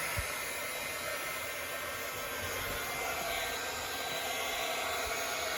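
An embossing heat tool runs steadily while warming up for Christmas card stamping, a constant close airy whoosh like a hair dryer that holds at one level from start to finish with no other sounds.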